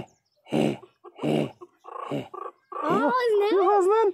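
A pinscher puppy growls close by, with short rough bursts followed by a long, wavering, rising-and-falling growl near the end.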